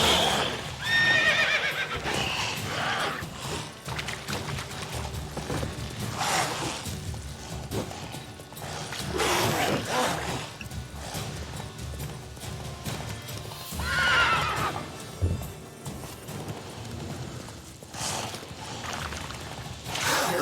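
A horse gallops with steady clip-clop hoofbeats and lets out loud neighs and whinnies in The Witcher 3 video game, the riding sounds continuous and close throughout.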